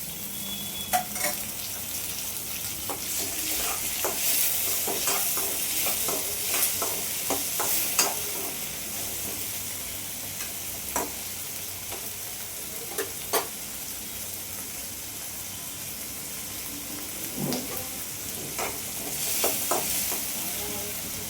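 Tomatoes fry in a pan for a North Karnataka style jowar roti oggarane, under a steady sizzle with scattered spatula scrapes and stirring taps close by, and no voices.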